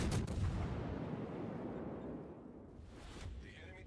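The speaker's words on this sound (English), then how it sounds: "He's already opening fire" Naval guns fire in World of Warships, a deep booming blast at the start that rumbles and decays over several seconds, with a further faint report near the end.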